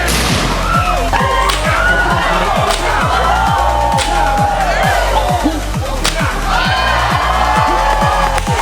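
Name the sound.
crowd cheering and applauding at pirate whip show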